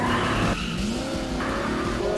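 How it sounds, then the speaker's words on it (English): Car engine roars loudly in the Hot Wheels Velocity X video game with tire skidding squeals, a sustained revving drone and sliding screech throughout, with no talk. "The sounds of the engine with the cars are not the original one."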